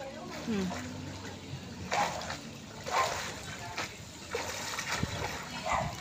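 Grandchildren bathing, with light water splashes and sloshing close by. An adult speaks throughout, and the soft splashes come in brief bursts under the talk.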